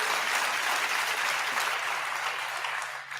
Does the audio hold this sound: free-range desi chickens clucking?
no